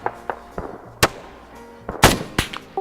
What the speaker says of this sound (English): The mortar is shooting.